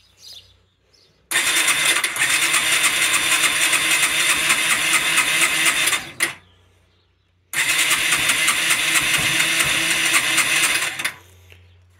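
A freshly rebuilt car engine is started twice. Each time a loud burst of cranking catches and runs roughly for several seconds before cutting out, with a quiet gap between the two attempts.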